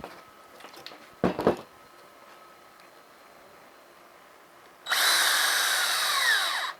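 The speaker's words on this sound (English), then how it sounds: "Grab 2 of my M3 by 12s. Go ahead and thread these in." A power drill threads M3 by 12 screws into a 1:10 scale RC chassis, with a brief whirring burst early, a pause, then a longer steady whine near the end.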